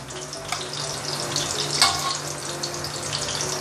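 Meatballs frying slowly in oil over medium heat, a steady continuous sizzle with soft crackles throughout and one brief louder pop midway, no voices.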